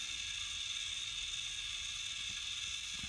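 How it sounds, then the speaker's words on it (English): A Snap Circuits motor drives a small pulley turning a larger one on a toy merry-go-round, giving a steady, continuous mechanical whir with a faint ratcheting texture, close and even throughout. "There's more resistance with the smaller pulley turning the big one, so therefore the merry-go-round is not going to spin as fast."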